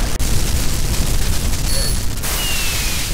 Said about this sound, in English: The fireworks are blowing up my ears.